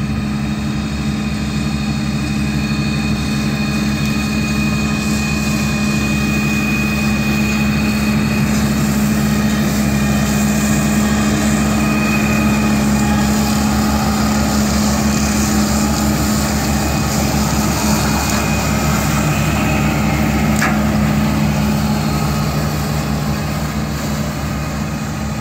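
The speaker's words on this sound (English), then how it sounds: "Front mount turbo Euro 250 with a Bomford Raptor 1600" A front-mount turbo Euro 250 tractor running with a Bomford Raptor 1600 mower, a loud, steady engine drone with a constant low hum, continuous and unbroken throughout, heard alone.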